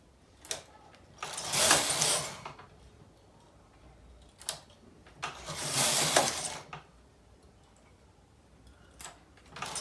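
A Brother knitting machine carriage is pushed across the needle bed twice, each pass a broad rattling, whirring sweep lasting about a second, with small clicks and ticks in between; close and fairly quiet, with no talking.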